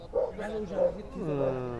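A French bulldog at a busy outdoor dog market gives short whining, yipping barks, three distinct vocal bursts close by, with people talking around it.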